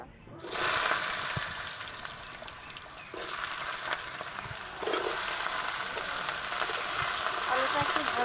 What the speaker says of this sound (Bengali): তেলটা গরম হয়ে গেছে আমি আলুটা দিয়ে দিলাম ভেজে নেব